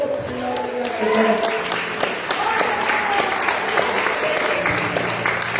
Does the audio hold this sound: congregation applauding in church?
yes